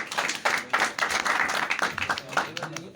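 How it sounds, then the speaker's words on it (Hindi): Audience clapping at a Christmas celebration gathering welcomes a speaker to the stage: brisk, dense applause lasting throughout, mixed with background chatter. "तालियों के साथ।"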